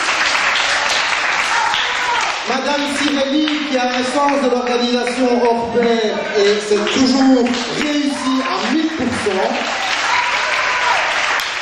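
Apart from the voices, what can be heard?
audience applauding Madame Petit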